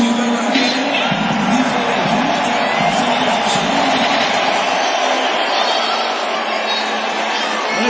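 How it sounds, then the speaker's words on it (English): Boxing arena crowd at a Tyson Fury fight cheering and roaring, a dense, loud, sustained wall of voices with whoops and shouts that continues throughout. "There's a reception from the American crowd."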